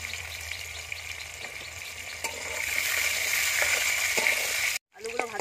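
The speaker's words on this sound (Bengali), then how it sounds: "আলুগুলো ভাজা হয়ে গেছে, এবার তুলে নেব" Potato pieces, seasoned with salt and turmeric, sizzle steadily in hot oil, with occasional stirring clinks and a brief silent gap near the end before the sizzle returns.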